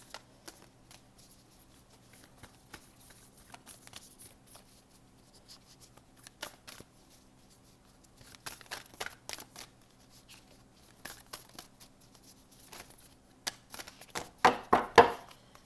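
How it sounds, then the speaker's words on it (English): Stiff oracle cards riffled and shuffled in bursts of crisp slapping and flicking, with a louder flurry near the end; no talking. "These cards are very hard to shuffle."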